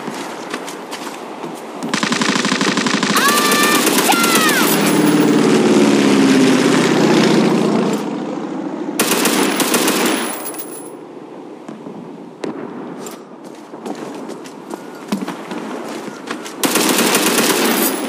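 The MG30 machine gun fires in long, loud sustained bursts in the World War Heroes video game. The shooting comes in several bursts separated by short gaps, with game effects mixed in, and no speech.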